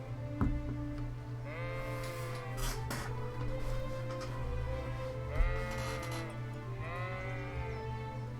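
Several sheep bleat in wavering cries, with three or four distinct calls spread over a steady low hum.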